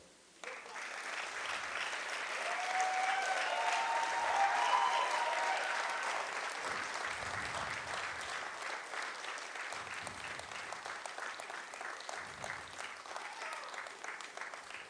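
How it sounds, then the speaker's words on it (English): An audience clapping in sustained applause that starts abruptly and holds at a steady, dense level for the whole stretch, swelling slightly in the middle before easing. "That's when I want to clap for Sultan"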